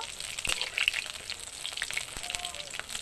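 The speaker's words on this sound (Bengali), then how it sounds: "মোচার রিং পিস গুলো কিরকম ফুলেছে দেখুন। শুরু ভালো করে লাল লাল করে ভেজে নেব" Banana flower rings fry in hot oil, producing a soft, continuous crackling sizzle with scattered pops, close by and fairly quiet, with no talking.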